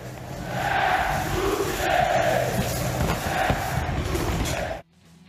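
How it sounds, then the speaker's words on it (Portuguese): São Paulo football supporters chant and cheer in a steady, muffled roar heard from behind a wall outside the club's training ground, continuous for several seconds before cutting off abruptly. "E ó, a gente consegue ouvir a torcida do São Paulo."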